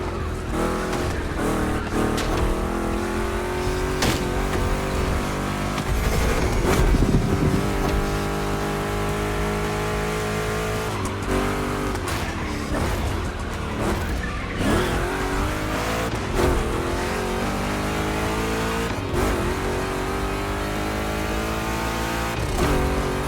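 Two Chevy big-block race cars in The Crew Motorfest roar continuously, engines revving up and down through shifts with tire squeal and skids on tricky turns, loud and close throughout.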